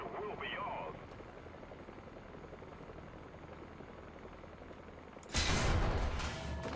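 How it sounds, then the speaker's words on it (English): A helicopter in War Thunder makes a steady, distant rotor drone that continues throughout, with a voice briefly audible early on and a loud burst of noise near the end. "The helicopter's not a direct threat to me."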